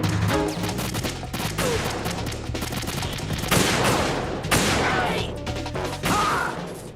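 Sniper rifle shots and gunfire in Metal Gear Solid 2, with several sharp, loud blasts and crashing impacts spread across the stretch over a busy game soundscape.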